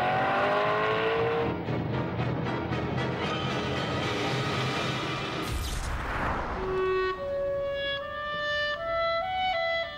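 A Maserati GranTurismo S engine revs hard and climbs through the gears, with a loud, rising howl, a quick break at a shift, then a high, sustained wail as the car pulls away.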